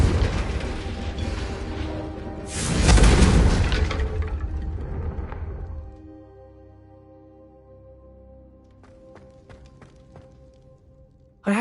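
A Confringo fire spell detonates in the Hogwarts Legacy video game on PlayStation 5, a loud booming blast that swells and rumbles for a few seconds, then fades into quieter game ambience with faint clicks and a sharp burst at the end.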